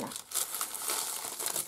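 A sheet of paper is torn off a paper pad nearby, a close, crisp crinkling rip lasting over a second with scratchy bursts throughout.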